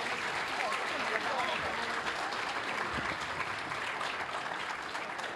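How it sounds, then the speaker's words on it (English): A convention main-stage audience applauds steadily and loudly throughout, a dense wash of many hands clapping with faint voices mixed in. "let's give them a hand clap"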